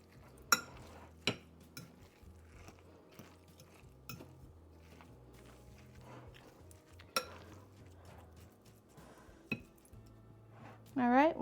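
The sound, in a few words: stirring food in a pot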